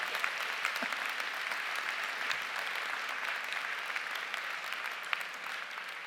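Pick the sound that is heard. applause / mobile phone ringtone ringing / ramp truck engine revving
applause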